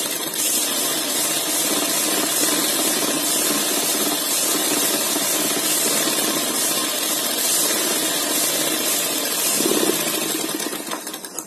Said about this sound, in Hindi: सिलाई लगाएंगे सीधी। एक किनारे की सिलाई लगाएंगे।